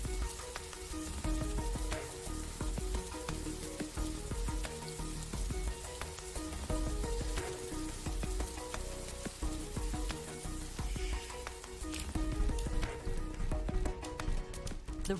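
Rain falls in the video game The Riftbreaker, a steady hissing patter with faint crackles, even throughout and without voices.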